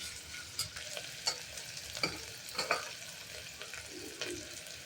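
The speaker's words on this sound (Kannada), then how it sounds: "ಚೆನ್ನಾಗಿ ಫ್ರೈ ಮಾಡ್ಕೊಳ್ಳಿ" Eggplant masala with curry leaves and salt frying in a pan, giving a soft sizzle broken by several quiet scraping stir strokes, fairly faint and without voices.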